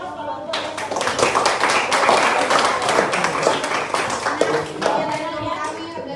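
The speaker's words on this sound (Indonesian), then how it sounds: "Kalau sama kita beri aplaus" A classroom group of students claps in a dense, steady round of applause lasting several seconds, close by, with children's voices mixed in.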